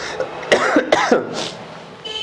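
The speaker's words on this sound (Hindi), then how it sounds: "सॉरी आज खांसी थोड़ी बीच बीच में हो रही है" Several sharp, throaty coughs in quick succession, close and loud, followed by a brief quiet breath.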